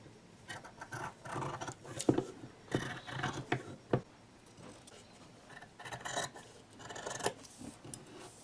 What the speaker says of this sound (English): Now we'll get the sewing scissors.